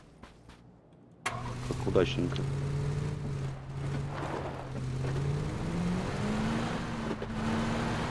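A car engine in an online shooter game turns over and starts, then runs steadily as the vehicle drives off, with players talking over it.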